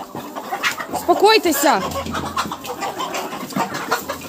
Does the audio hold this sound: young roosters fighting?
yes